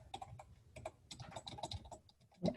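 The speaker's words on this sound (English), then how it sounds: "I'm being very careful as I'm typing to make sure that I'm typing exactly what I have" Quiet, close typing on a computer keyboard: quick bursts of clicking keystrokes with brief pauses, no voices.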